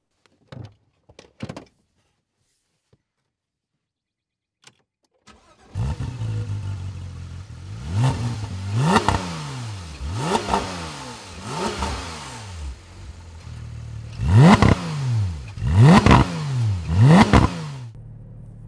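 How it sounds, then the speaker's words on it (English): A Porsche 991 GT3 engine revs hard as the car climbs a hill in Europe. After a few faint knocks, the high-pitched flat-six howls through repeated rising revs and gear changes. It is loud and close, with no talk. "this is the new GT3 being driven up a hill somewhere in Europe"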